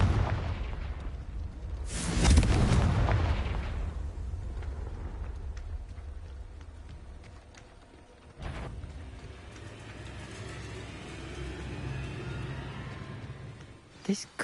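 Confringo fire spells cast in Hogwarts Legacy burst with two sharp, booming explosions, one strong and one lighter, each trailing into a low rumble amid ambient game sound.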